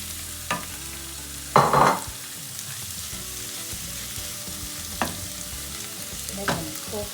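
Prawns sizzle steadily in a hot pan for encocado de camarón, a continuous close frying hiss broken by a few clattering stirs, with no talking.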